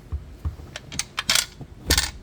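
A loose bolt rattles inside a Kia Carnival seat rail, giving a series of irregular, sharp metallic clicks and clinks, close and fairly loud, with short quiet gaps between them.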